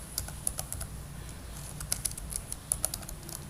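Someone types on a computer keyboard while writing a Java calculator program, producing a quick run of light, irregular key clicks. A few sharper taps stand out, the keys sound close, and no one talks.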